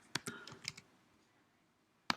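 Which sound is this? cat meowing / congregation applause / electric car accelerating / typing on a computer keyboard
typing on a computer keyboard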